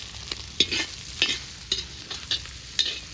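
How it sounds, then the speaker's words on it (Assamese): Chillies fry in a pan while being stirred, a soft sizzle punctuated by about six sharp scraping stirs spaced roughly half a second apart, close and with no talk. "এইফালে জলকীয়া ভাজি বনাই আছে"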